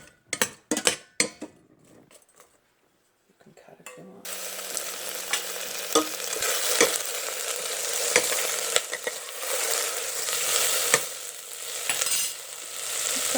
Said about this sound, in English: this is the all-important saute step to get the flavors